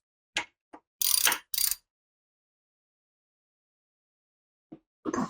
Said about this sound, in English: I'm using 1/4 inch Allen here to loosen up the clamp on the handlebars